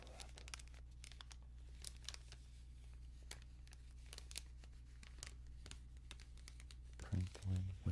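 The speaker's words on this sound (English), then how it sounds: "The metallicized snack bar wrapper." A metallicized plastic snack bar wrapper crinkles close up in repeated crisp bursts, ending in a louder handling burst.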